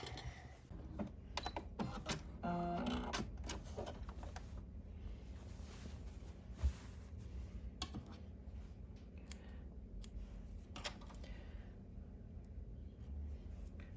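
Sewing machine stitching the neck facing of a scrub top, a steady low mechanical running with intermittent clicks and sharp ticks, fairly faint and close, with no talk.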